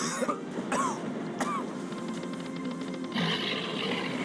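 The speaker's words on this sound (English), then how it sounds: "Not sure who that was coughing in the background there." A few short coughs and throat-clearing sounds come from somewhere in the room, off-mic, over a steady mechanical whir.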